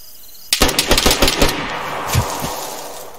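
Automatic gunfire in the video game DayZ cracks out in a fast burst of about nine loud shots, then a couple of scattered later shots fade into a lingering echo, with no talking.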